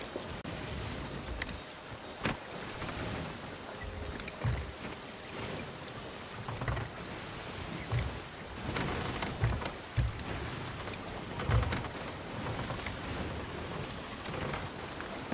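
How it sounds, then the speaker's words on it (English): Steady rain falls on a ship in the video game Sea of Thieves, a dense, continuous hiss with scattered louder splashes and thumps throughout, no voices heard. "Rain makes your ship start to sink."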